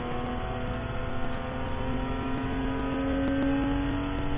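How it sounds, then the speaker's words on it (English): Race car engine in an endurance series at Watkins Glen, droning steadily and loud with a rising, sustained tone as it runs at speed, no talk over it. "Car sounds really good. Yep, it's a great race car."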